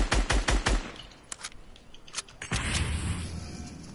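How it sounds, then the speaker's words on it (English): Rapid gunfire in the Fortnite video game opens with a loud, close burst of quick shots, then scattered single shots and a sustained rumbling noise follow, with no voices. "Oh shit, shooting."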